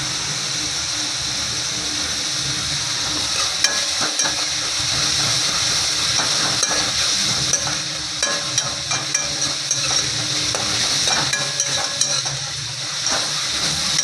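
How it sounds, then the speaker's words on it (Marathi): Onion sautés in oil with a continuous hissing sizzle while a spoon stirs it, making frequent light scrapes and clinks against the pan. The sound is close and steady, with no speech. "कांदा मस्त परतून घेऊया कांदा"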